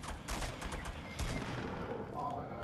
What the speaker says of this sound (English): Oh, I see gunshots.